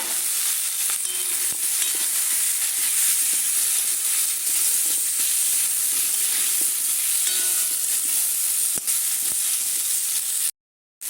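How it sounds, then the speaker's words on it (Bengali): Chopped mangoes stirred into spice paste frying in a pan make a loud, continuous sizzle and hiss with scattered scraping of the spoon, cutting off briefly just before the end. "এর মধ্যে দিয়ে দেবো আমি কেটে রাখা আমগুলো।"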